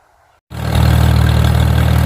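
After a brief quiet moment, a heavy Farmall M tractor engine suddenly roars up and settles into a loud, steady, throbbing idle close by.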